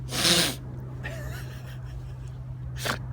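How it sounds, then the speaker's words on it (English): A sharp, breathy sneeze bursts out at the start, followed by quiet sniffling and a second softer sneeze near the end over a low steady hum. "I can't stop sneezing."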